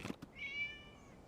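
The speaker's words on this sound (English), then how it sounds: "It was just a cat." A single drawn-out cat meow rises after a couple of soft knocks, moderately quiet, in the game Genshin Impact.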